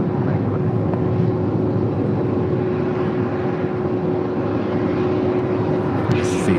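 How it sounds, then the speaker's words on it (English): A Hawker 125 business jet departs for Los Cabos, its engines producing a steady, loud, continuous roar with a constant low hum underneath for the whole stretch. "It's a Hawker 125 departing to Los Cabos."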